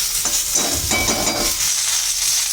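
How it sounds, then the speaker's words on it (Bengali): Thin flat beans sautéing in a hot pan, a steady close sizzle with a few louder bursts of scraping and stirring in the middle, no voices. "পাতলা শিমটা দিয়ে আমি এখন একটু কষিয়ে নেব"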